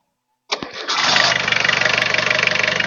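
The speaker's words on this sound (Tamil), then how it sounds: "இப்போ இன்ஜினை ஸ்டார்ட் பண்ணுவாங்க இன்ஜினோட சவுண்ட் அப்படியே லைவாக கேளுங்க" An engine cranks and catches after a short silence, then settles into a steady, loud rumbling idle with a regular pulsing beat.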